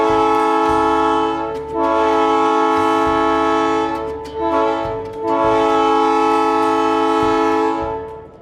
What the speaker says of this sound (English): In the case of a locomotive approaching a crossing, it's 2 longs, a short, and a long